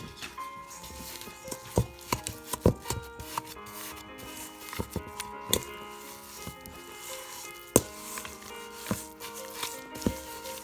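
Baking powder and cinnamon are stirred into a bowl for snickerdoodle dough: quiet irregular scraping and light clicks of a utensil against the bowl, with faint tonal music behind.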